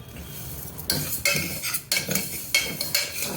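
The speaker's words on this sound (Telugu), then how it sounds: "సిమ్లో పెట్టుకుని వేయించుకోవాలి" Moong dal is stirred and dry-roasted in a pan, with a utensil making several distinct scraping sweeps and clinks against the metal in an uneven rhythm over a faint sizzle.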